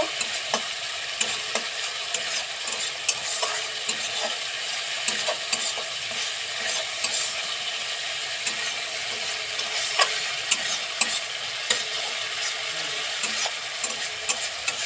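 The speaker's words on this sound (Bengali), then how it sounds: "একটু লবণ, একটু হলুদ, একটু মরিচের গুঁড়ো, মশলা বাটা দিয়ে কি সুন্দরভাবে আমরা এখন মশলাটাকে কষে নেব" Spice paste with salt, turmeric and chili powder sautéing in a pan, a steady sizzle broken by frequent scraping stir strokes throughout, close and fairly loud with no voices.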